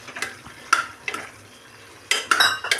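Two medium potatoes and a cup of chickpeas are stirred into a curry gravy in a pan: a handful of sharp spoon scrapes and clinks against metal in quick, uneven bursts.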